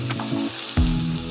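Sliced ridge gourd hits a hot pan in a home kitchen, setting off a sudden loud sizzle and crackle after a few light clinks, the frying hiss continuing close and steady.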